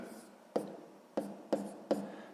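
Pen strokes scratch across paper as math is written out by hand, four distinct bursts of writing near and fairly soft, with no voices.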